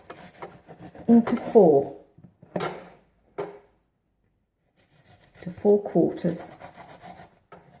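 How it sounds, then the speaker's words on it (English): A bread knife saws through a wrap on a cutting board in short scraping, rasping strokes, interrupted by pauses and a spoken voice over the work. "with a sharp knife, bread knife, I would cut my wrap"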